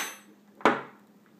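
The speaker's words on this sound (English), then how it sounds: "you're going to remove your firing pin retaining pin" The firing pin retaining pin is pulled from an AR-15 bolt carrier, making one sharp, close metallic click that fades quickly in an otherwise quiet moment.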